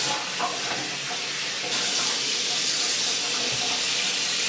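Steady rush of warm tap water pouring over a wig in a sink, a continuous close hiss with a brief shift partway through as the flow changes.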